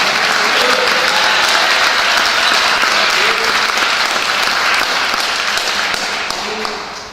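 A church congregation claps loudly in praise during a Portuguese sermon, dense, sustained applause with faint voices beneath, tapering off toward the end.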